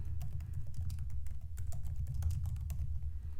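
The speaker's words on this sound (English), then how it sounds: "So I'm going to type it too." Rapid keystrokes patter on a computer keyboard, a quick irregular run of light clicks over a low steady hum, close and fairly quiet, with no voices.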